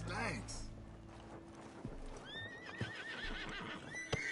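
A horse in Red Dead Redemption 2 gives a loud whinny at the start, followed by clip-clop hoofbeats and rolling outdoor ambience, with other game sounds layered beneath.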